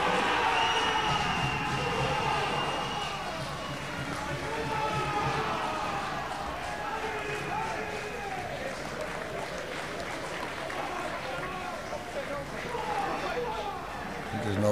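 Crowd at a men's European bowls championship match, a steady murmur of many voices with scattered clapping and calls, moderately loud and continuous throughout, with talk mixed in.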